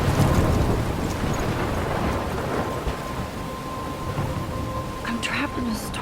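Steady heavy rain and wind in a Life is Strange storm near a lighthouse, a continuous dense wash with low rumbling, and faint tonal game sounds toward the end.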